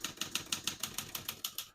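A 1971 Olivetti Lettera 32 portable typewriter clacks through about ten crisp, evenly spaced keystrokes, close up and fairly quiet, with no voices.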